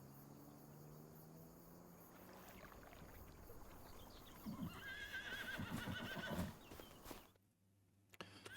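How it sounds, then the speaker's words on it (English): Horses on a farm in Farming Simulator 25 whinny and shift about amid steady outdoor ambience with insect-like chirps, the animal sounds swelling midway before the scene cuts to near silence. "and then we have some horses."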